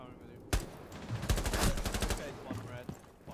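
Gunfire in the tactical shooter Rainbow Six Siege: a sharp single shot followed by a rapid automatic burst of close, loud rounds, then a few scattered shots trailing off, with game voices faintly underneath.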